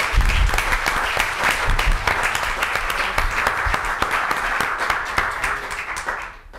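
Sustained audience applause for a retiring teacher at an art talk, dense clapping at steady loudness for several seconds before tapering off at the end.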